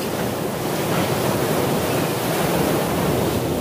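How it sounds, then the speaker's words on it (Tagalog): Powerful sea waves crash continuously near a bridge at Isla Jardin Del Mar in Glan, Sarangani, a dense, loud, unbroken roar mixed with wind noise and no talking. "Yan guys, sobrang lakas ng alon guys."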